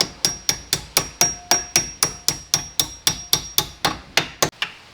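Steady hammer strikes drive retaining pins through a front brake bracket on a C8 Corvette Z06, about sixteen sharp metallic blows at an even, quick rhythm, each ringing briefly and close, with no talk.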